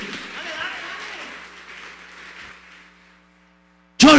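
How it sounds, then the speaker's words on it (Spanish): A church congregation breaks into loud sustained applause during a worship service. The clapping fades steadily over about three seconds into near silence, then a voice cuts in abruptly at the end. "Dale ese aplauso al Rey."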